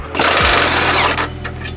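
A 1/2 inch impact wrench with a 21 socket removing the lower shock bolts, a loud close rapid hammering burst that runs about a second before dropping off.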